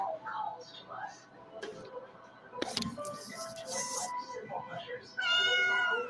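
A cat meows several times up close, short plaintive calls with one drawn-out cry at the end, while a person speaks softly between them.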